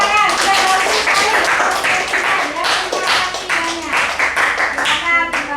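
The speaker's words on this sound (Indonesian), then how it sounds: "Kita berikan tepuk tangan." Classmates clap for a student group that has just presented in a classroom, a modest round of individual handclaps close by, with what may be a few voices mixed underneath.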